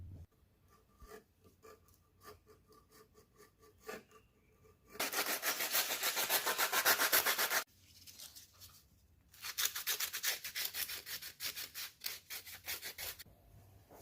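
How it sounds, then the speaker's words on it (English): Thin 2mm wood panels are cut and sanded by hand for a speaker adapter: a few soft scrapes, then two long stretches of close, steady rasping strokes separated by a brief pause. "The wood is thin enough to cut with a blade, and you can take off the rough edges with sandpaper."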